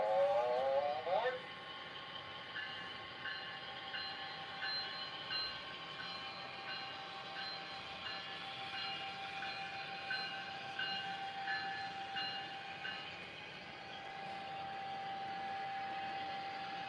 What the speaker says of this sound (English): Now departing on track 1, northbound train number 110.